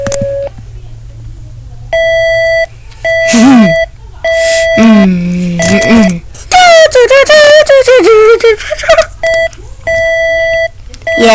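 Loud Emergency Alert System tones: repeated steady electronic beeps in evenly spaced bursts, broken by warbling, sliding tone passages and a chirping stretch, with no voices.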